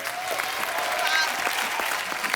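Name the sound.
audience applause on TV show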